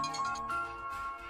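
A telephone line tone plays after a number is dialed, a brief sustained electronic tone heard alone, fairly faint.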